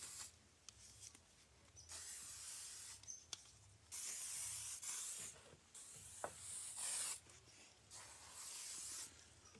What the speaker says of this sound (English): Get rid of all this spray.